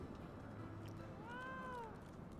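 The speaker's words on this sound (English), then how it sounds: "I'm hearing little cats." Small cats meow in the Final Fantasy 14 game world, one faint rising-and-falling mew heard once amid quiet background game ambience.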